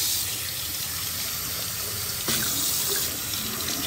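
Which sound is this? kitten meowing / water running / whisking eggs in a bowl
water running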